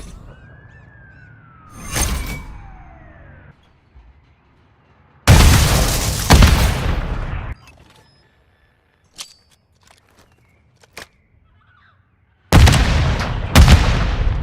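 Grenade explosions in Modern Warfare III on the Favela map: two heavy, loud blasts with long rumbling decay, separated by a quieter stretch of small clicks and pops, with a whistling sweep near the start.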